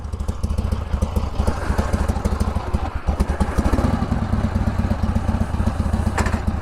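A 1970 Harley-Davidson XLCH Sportster idles close by, its engine giving a loud, lumpy, uneven thump with mechanical clatter and no talk throughout.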